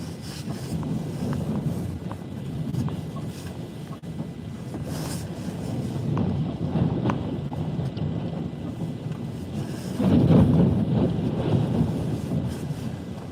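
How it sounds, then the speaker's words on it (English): Strong gusts roar across the microphone outdoors in the Columbia River Gorge, a dense continuous rumble that surges louder near the end, with no speech. "It's had a gust of 75 just now."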